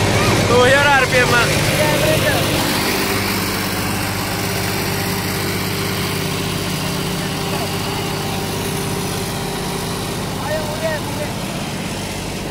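An engine runs steadily in D1 gear at about 2000 RPM, a constant low rumble from start to finish, with someone talking over it.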